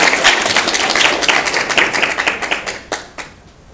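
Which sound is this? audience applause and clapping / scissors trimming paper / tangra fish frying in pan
audience applause and clapping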